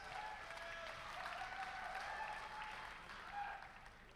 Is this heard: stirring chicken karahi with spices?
no